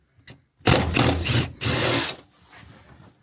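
A power driver with a T50 Torx bit works on the seat bolts of a 2023 Nissan Murano, giving two close, loud whirring bursts separated by a brief pause, then a quieter tail.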